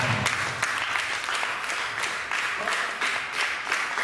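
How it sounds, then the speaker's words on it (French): Applause from a church congregation in a French-speaking gathering, steady dense clapping from many hands lasting several seconds, fairly loud and close with a continuous roomy wash. "prie d'applaudir encore"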